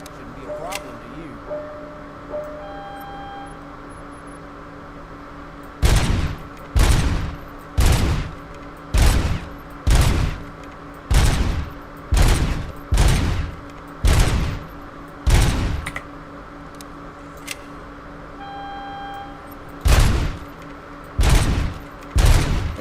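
Gunfire in the RoboCop Rogue City video game on a shooting range: a rapid run of loud, sharp shots in an evenly spaced rhythm, with a brief pause before a final few, over a low ambient hum with faint beeps.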